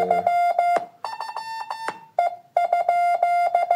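Loud electronic beeps from a Morse code phone app in short and long tones with brief pauses between groups, tapping out a Morse-code pattern with no other sound.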